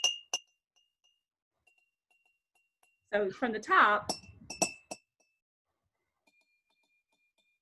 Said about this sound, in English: different levels of water in a glass, they make music, and they can make different sounds